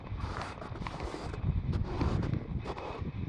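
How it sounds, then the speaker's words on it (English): Gusty winter wind over a snowy lake rushes past, buffeting the microphone in uneven surges that swell and ease, moderately loud with no talking. "The wind is pretty strong"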